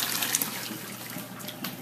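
Cooked tri-color tortellini are strained, with water pouring and draining in a steady close hiss and splash, alone with no voices.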